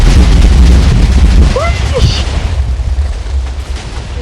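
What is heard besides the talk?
explosion in the video game Minecraft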